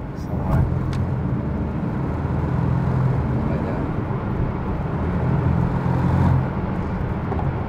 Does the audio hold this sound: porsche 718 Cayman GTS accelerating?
yes